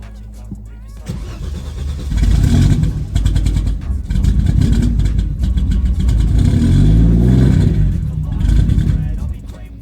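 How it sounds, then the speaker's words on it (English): Mercedes-Benz car engine with a weak battery cranking and then catching, settling into a loud, close, rough rumble that holds steady for several seconds. "let's fire up the Benz, head on over there and get started"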